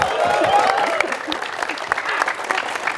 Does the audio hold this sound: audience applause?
yes